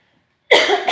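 A single close, loud person's cough bursts out after a half-second of silence and trails off, with no other sound around it.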